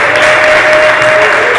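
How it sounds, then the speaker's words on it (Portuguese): A church congregation claps hands together in steady, loud, dense applause that fills the room for the whole moment, with no pauses. "Desocupe as mãos para bater palmas e dar glórias ao nome do Senhor"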